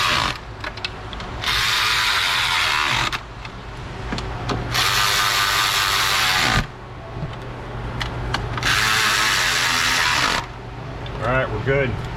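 Bolts on a 300k-mile Ford Escape 3.0 V6 are run in with a power tool in three long, loud whirring bursts, with ratcheting and clanks of work between them. Someone talks throughout.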